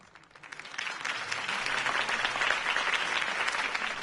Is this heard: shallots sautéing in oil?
no